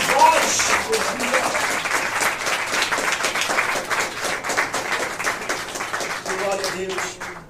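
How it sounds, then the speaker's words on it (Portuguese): A church congregation claps in praise, loud and dense applause with scattered voices calling out over it, gradually thinning toward the end. "Eu quero que você aplaude ao Senhor"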